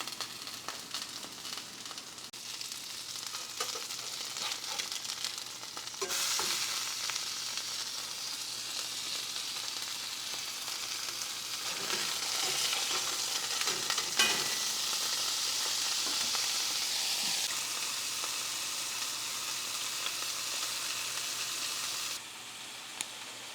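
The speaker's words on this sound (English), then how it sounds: "We're going to sear them pretty good on both sides." Hamburger steak patties sear in a hot pan with a steady, fairly loud sizzle throughout, swelling and crackling louder midway, with no voices.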